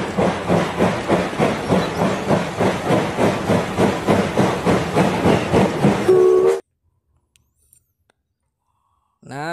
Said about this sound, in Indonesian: Nah, selanjutnya kita ambil kereta api, teman-teman.